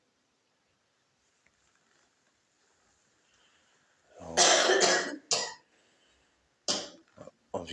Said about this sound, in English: that's a member of the staff coughing